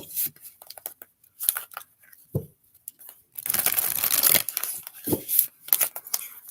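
Tarot cards being shuffled by hand, giving crisp papery riffles and scuffs in short irregular bursts, with a longer continuous shuffle in the middle and some soft knocks.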